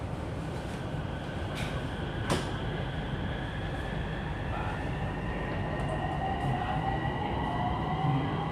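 An electric urban rail train runs between stations with a steady rumbling roll, wheel noise and a few sharp clanks, while a faint rising whine of the motors builds underneath.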